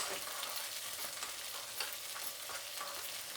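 Cinnamon, cloves and coriander seeds fry with green chillies, ginger and garlic in oil, making a faint, even, continuous sizzle with no talking.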